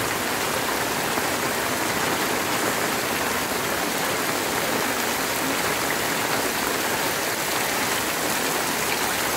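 Heavy rain and rushing floodwater pour through a flooded market street in a dense, continuous hiss that stays loud and steady throughout, with no voices.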